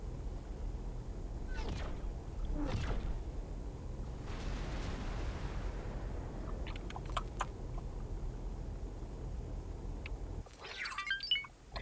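Xenon defense platform exploding in the space game X4, deep rumbling blasts swelling and fading over several seconds, followed by scattered crackling debris bursts near the end.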